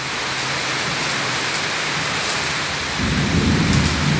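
Heavy afternoon rain pours steadily in a broad hiss, then a deep rumble of thunder rolls in near the end and swells louder under the downpour, with no voices.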